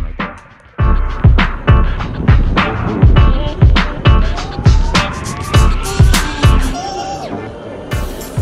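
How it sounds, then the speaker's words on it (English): An electric skateboard rolling on a road beside the Han River, with repeated rhythmic thumps as the wheels hit pavement joints, a rising motor whine and rushing wind, loud and close, with a siren-like tone passing in the background. "It's an e-skateboard that I got from China, and it helps me get around really fast."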